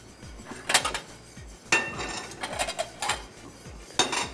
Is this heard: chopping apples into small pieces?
yes